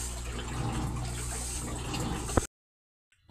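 A Samsung automatic washing machine with a fault that keeps it filling with water during the wash gives a steady, close rush of incoming water for about two and a half seconds, then cuts off abruptly into silence.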